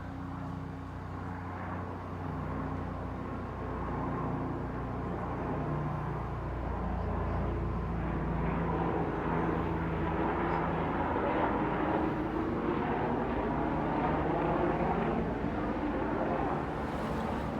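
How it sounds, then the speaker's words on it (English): A steady, loud drone of a low-flying airplane overhead, rumbling continuously without a break. "I don't know why the plane's are loud like that."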